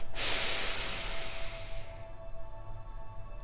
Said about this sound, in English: inhale once more